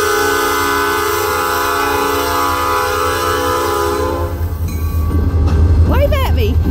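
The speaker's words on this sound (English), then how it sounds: "I just thought I'd show you the train." Freight train rolling past with a loud, steady roar for about four seconds, then fading as voices talk over it near the end.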